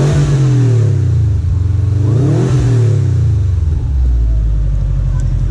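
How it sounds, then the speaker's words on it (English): A 2013 Subaru STI with a four-cylinder turbo engine revs loudly and close, its idle rising into two sweeping climbs and falling back before settling into a steady low rumble. "see what a nice little rev action for is on the 4-cylinder turbos"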